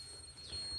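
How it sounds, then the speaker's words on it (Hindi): An electronic buzzer sounds at a low supply of about 1.4 volts, giving a thin, steady, faint high-pitched tone that holds through the short moment with no voices. "ये बजर की आवाज़ अभी कम है।"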